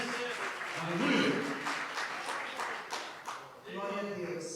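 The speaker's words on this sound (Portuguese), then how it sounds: "Pode aplaudir o Senhor mais uma vez." A church congregation applauds, a broad wash of clapping that swells near the start and carries on with voices mixed in throughout.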